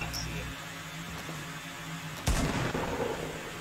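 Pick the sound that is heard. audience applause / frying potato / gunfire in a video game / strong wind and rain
gunfire in a video game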